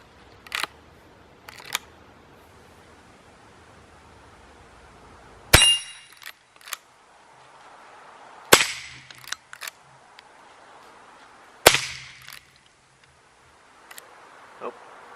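Sharp gunshots from a Marlin Model 39A .22 rifle at an outdoor range, a few spaced single cracks several seconds apart with faint action clicks and small handling noises between them.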